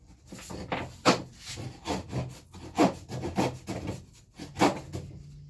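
A hand drywall saw cuts through a drywall sheet in a run of rough, rasping strokes, each loud near push scraping in an uneven rhythm with short pauses between, heard alone without talk.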